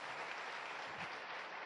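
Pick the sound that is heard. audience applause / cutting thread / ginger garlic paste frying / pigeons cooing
audience applause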